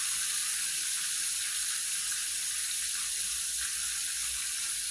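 Pork chops sizzle in a frying pan, a continuous dense hiss of hot fat that stays loud and even throughout, with no talking.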